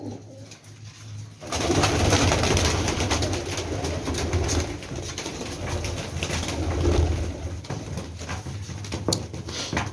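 Teddy pigeons in a Rawalpindi loft coo steadily over a close, dense bed of soft calls, with occasional bursts of wing flapping and light patter throughout.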